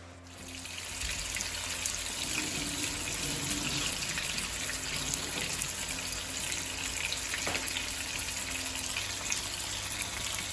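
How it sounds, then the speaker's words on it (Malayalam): Pork pieces frying in hot coconut oil, a steady loud sizzle and hiss that starts abruptly and continues evenly throughout, with no talking. "വെളിച്ചെണ്ണ ചൂടായി കഴിഞ്ഞാൽ നമുക്കിത് ഓരോന്നായിട്ട് ഇട്ട് കൊടുത്തിട്ട് നന്നായിട്ട് ഫ്രൈ ചെയ്തെടുക്കാം"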